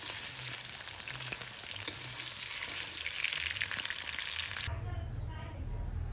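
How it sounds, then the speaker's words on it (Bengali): Potatoes fry in hot oil in a home kitchen, a soft, continuous sizzle and crackle heard alone at low volume, with a slight change in tone near the end. "প্রথমেই আমি আগে আলুটা ভেজে নিলাম।"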